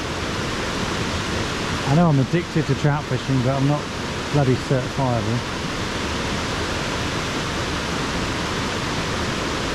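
Steady broadband rush of falling water fills the whole clip, with someone talking briefly over it near the start.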